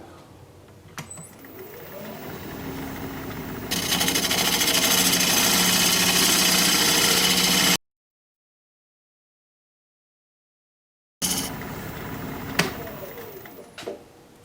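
Turning tool cutting the base of a live-edge, end-grain winged wooden bowl on a lathe, a steady loud scraping whir that swells midway and runs continuously, then breaks off and resumes more quietly with occasional knocks.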